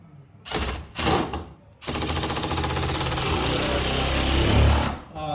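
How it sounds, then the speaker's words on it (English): An impact driver fitted with an angle bit drives screws into an oak ceiling beam and joist, giving two short rattling bursts and then a long, loud hammering run of several seconds, close by. "So we're on a little impact driver, and it does the same job"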